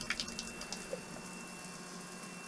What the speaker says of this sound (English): if I just increase the flow again, you see the water just comes through a lot quicker